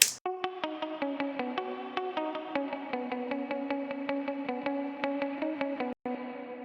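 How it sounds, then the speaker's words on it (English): Soloed electric guitar playing short reverb-washed plucks in a steady repeating rhythm, clean and fairly quiet, each note ringing into the next, with no voices. "I added some electric guitar, just like little reverb pluck guitars"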